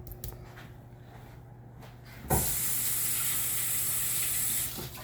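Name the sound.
running tap water, rinsing hands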